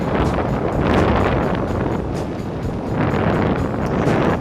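Heavy wind buffeting the microphone while riding a motorbike at normal speed in Thailand, a continuous loud roaring rush that surges and eases, with no voices.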